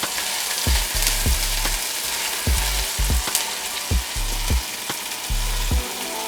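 Garlic and onion fry in a pot with a steady, loud sizzle, broken by regular low knocks of a spoon stirring against the pot about once a second.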